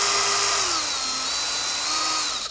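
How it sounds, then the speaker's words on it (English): Power drill boring a hole into a solid guitar body for a Partscaster build, a steady loud high-pitched whine with slight pitch dips as the bit bites, cutting off abruptly at the end. "use that to self-center the drill bit and just drill straight into the body."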